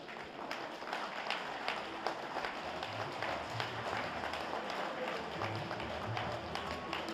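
Applause and clapping from a crowd at a Nepali political rally, a steady dense patter of many hands that fills the whole stretch at moderate loudness.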